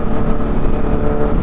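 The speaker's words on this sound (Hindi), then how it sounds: "मजे ही आते हैं यार बाइक चलाने में।" Motorcycle ride on a curvy road over a bridge near Siliserh Lake in Alwar, Rajasthan, with a steady, loud engine drone and road noise filling the whole stretch, no voices.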